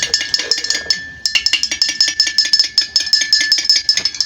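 A metal spoon stirring three spoonfuls of sugar into a homemade lemon drink in a glass, making rapid, steady, bright clinks against the glass, close and loud with no talking.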